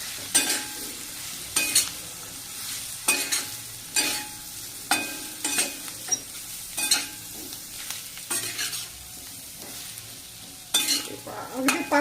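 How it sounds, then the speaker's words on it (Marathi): Ridge gourd being stirred and fried in oil, with repeated spoon scrapes against the pan at an irregular rhythm over a steady low sizzle, close and fairly quiet, with no talking. "तर बघा असं मस्त आपण तेलामध्ये परतून घेतलं जातं"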